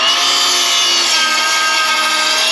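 A cordless miter saw slices through 2x4 lumber for rebar forms, giving a loud, steady high-pitched whine that holds evenly from start to finish with no talking.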